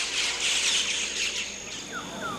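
Rainforest birds in Papua New Guinea call over a dense, hissing wash of insect buzz, with shrill chirps and a couple of rising whistled notes near the end, moderately close and with no voices.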